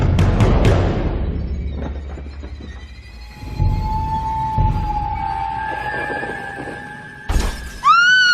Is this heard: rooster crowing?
no